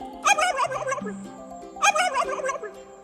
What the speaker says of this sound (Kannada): ಟರ್ಕಿ.